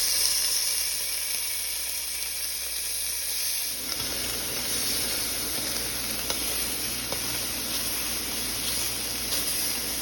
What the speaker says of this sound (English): We're gonna go ahead and saute the shrimps in some olive oil.